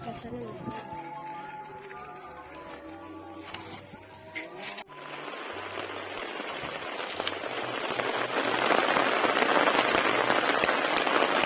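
Rain falling during a shared meal outdoors in a garden, starting soft and swelling into a loud, dense hiss of drops over several seconds while people talk nearby at first.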